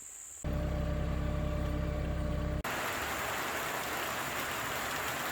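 A low old tractor engine idles loudly and steadily for a couple of seconds, then cuts off and leaves a steady hiss of rain.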